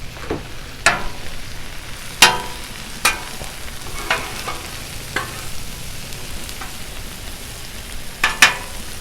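Cajun shrimp and smoked sausage stir fry sizzling on a Blackstone griddle, a steady hiss of frying broken by sharp scraping and clacking spatula strikes at irregular intervals, close and clear with no talking.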